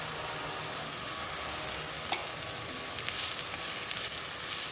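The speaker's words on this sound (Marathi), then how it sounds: "म्हणजे थोडं 1 मिनिट आपण याला परतू देऊया, जास्त वेळ नाही." Sandwich stuffing with turmeric sizzles and fries in a pan while being stirred, a steady close hiss with a few scraping accents, no talking.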